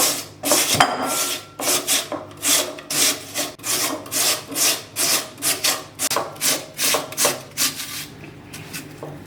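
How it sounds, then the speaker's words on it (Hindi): Potatoes rubbed against a kitchen grater in quick rhythmic rasping strokes, about two per second, close and crisp with no talk over them. "आलू को हम इसका कद्दूकश कर लेते हैं।"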